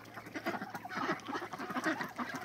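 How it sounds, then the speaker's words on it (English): Ducks on a mountain homestead quack in a close, busy chorus of overlapping calls that runs steadily through the whole stretch without pause. "Happiest ducks in all the land."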